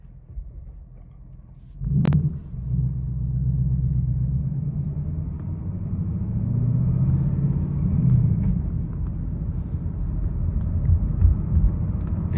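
Inside a 2022 Mustang GT, the exhaust rises into a low, loud rumble after a sharp click, droning steadily as the car pulls and cruises, with no talking.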